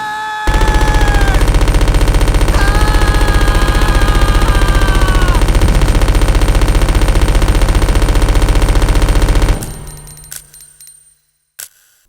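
Sustained machine gun fire in the video game Resident Evil Code: Veronica, a dense loud continuous rattle for about nine seconds that cuts off into a few scattered clicks and near silence.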